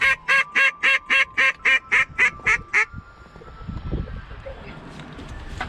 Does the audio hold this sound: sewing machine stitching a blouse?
no